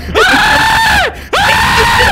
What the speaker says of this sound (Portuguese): Eu soltei um gritão aqui de raiva.